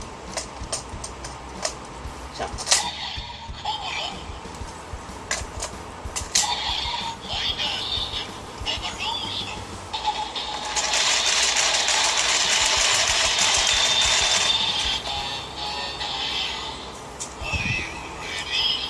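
Kamen Rider Build Evol Driver toy transformation belt with a Cobra Evol Bottle inserted and the lever cranked, playing electronic sound effects and music that swell into a louder sustained stretch midway, with clicks and rattles of handling around it.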